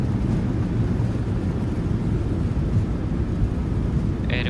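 A Boeing 737-800 in Microsoft Flight Simulator 2020 deploys its thrust reversers on landing, giving a loud, steady, low roaring rush that stays constant throughout.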